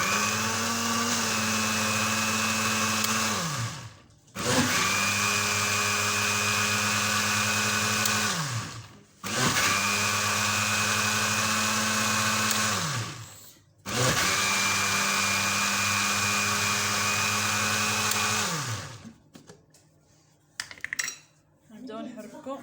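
Electric hand mixer beating flour into a cake batter, running in four long steady whirring bursts with brief pauses between, loud and close, ending with a few soft clatters.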